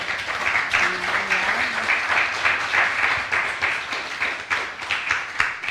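Audience applause at a Polish author's evening for Irena Kaczmarczyk's book launch in Kraków, dense continuous clapping from a seated crowd with a couple of brief spoken calls over it.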